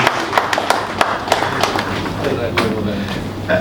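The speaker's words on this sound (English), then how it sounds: "We can sustain the round of applause for this." A round of applause at an awards gathering, a burst of irregular hand claps that fades into a softer crowd rumble, with someone talking over it.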